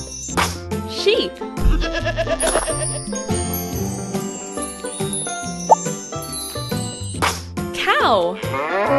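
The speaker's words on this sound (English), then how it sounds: "Sheep." Wavering bleats of a cartoon sheep rise out of cheerful children's music with jingles and tinkles, heard early on and again near the end, loud and up front.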